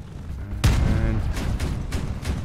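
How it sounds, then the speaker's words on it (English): A vehicle-mounted cannon fires once in the Crossout vehicle combat game, a sharp loud boom with a rumbling tail, followed by fainter impacts and battle noise. "just barely getting him with that cannon now"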